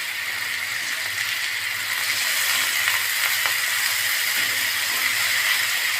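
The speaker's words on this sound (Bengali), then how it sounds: "এখন লোরাস মাঝারিতে রেখে 7 থেকে 8 মিনিট উল্টো পাল্টে ভেজে নিব" Chicken pieces frying over medium heat in a pan on a gas stove, a steady close hiss and sizzle with no pauses throughout.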